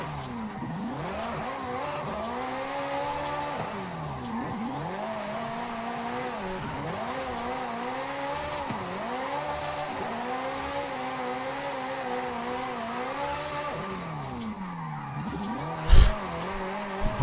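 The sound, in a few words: Ferrari car engine while driving in video game Forza Horizon 5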